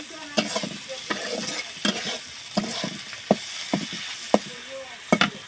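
A spatula stirs chili paste and a pinch of garam masala in a frying pan, giving a series of sharp scraping strokes at an uneven rhythm over a soft, steady sizzle, close and moderately loud.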